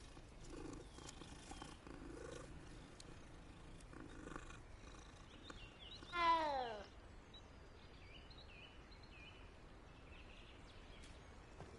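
A cat purring in a Hogwarts Legacy game scene, a soft steady rumble running under ambient game sound, with a brief rising meow-like cry near the middle.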